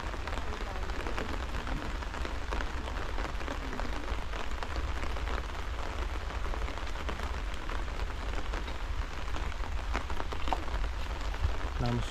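Steady rain falls on an outdoor site during soil excavation for a pond. The patter is constant and moderately close, with scattered drop impacts and faint background sounds throughout.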